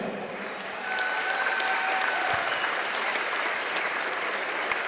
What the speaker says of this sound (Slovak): Takže veľký potlesk pre všetkých sponzorov